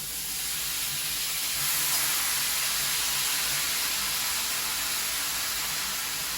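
Continuous soft sizzling hiss of pasta frying in a pan, steady and moderately quiet, with no voices.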